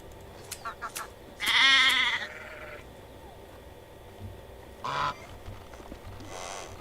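Sheep on a farm in Medieval Dynasty give a couple of loud, wavering bleats, one long call near the start and a shorter one later, amid soft clicks and quieter background calls, with faint talk.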